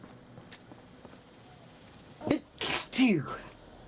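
A single sharp sneeze bursts out during a Fallout 76 gaming session, loud and close, preceded by a brief inhale and followed by a trailing vocal tail, with faint background noise around it.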